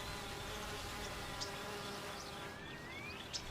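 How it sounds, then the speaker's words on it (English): Steady insect buzzing fills the scene, a dense continuous hum of many honeybees close by at a hive entrance, with occasional higher whines as individuals fly past. "Worker bees stand guard at the entrance of the hive, keeping out bees from other hives."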